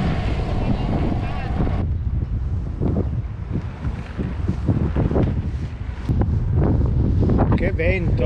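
Strong wind buffets the microphone outdoors near olive groves and cliffs, with loud gusting rumble and rustle throughout and a brief shift in tone near the end.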